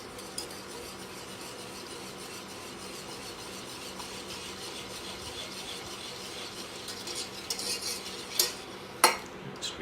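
Butterscotch pudding mixture is scraped out of a container into warm milk: a soft, steady rasping scrape that runs throughout, with a few sharper utensil clinks toward the end.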